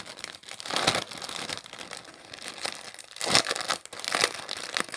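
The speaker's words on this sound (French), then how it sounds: "Je suis désolée pour le bruit du papier." Paper crinkles and rustles up close, in uneven bursts of crackling that swell and fade, with no voices.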